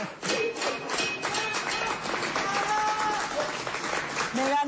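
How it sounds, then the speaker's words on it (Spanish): An audience breaks into steady, dense applause for Mirta Legrand on an Argentine TV stage, a bright continuous patter with some crowd noise and a few thumps under it. "El aplauso fue mayor"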